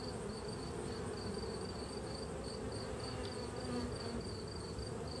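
Honey bees dusted with goldenrod pollen swarm around an open hive after a honey flow, their dense steady buzz filling the air close by with a faint higher whine over it.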